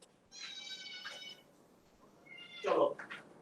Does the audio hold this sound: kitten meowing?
yes